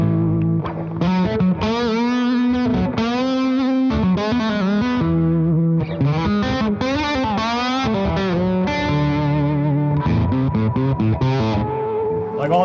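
An electric guitar shreds through heavy gain distortion, fast bends and whammy-bar dives warping the pitch in loud, sustained runs with brief pauses, aggressive and close, with no talking over the playing.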